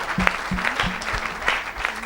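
A church congregation claps in a quick, steady rhythm, with cheering and voices mixed in. The sound is loud and close.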